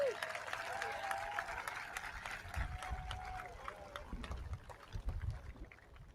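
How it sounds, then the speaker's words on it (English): A graduation audience for a high school class of 2021 claps steadily in a sustained burst of applause, with a few voices calling out over the clapping. "Let's give a round of applause."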